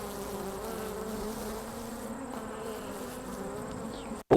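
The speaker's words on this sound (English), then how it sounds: "Full of bees" Bees buzzing inside a full beehive during early fall, a steady, close, low droning hum that holds evenly before a sudden knock at the very end.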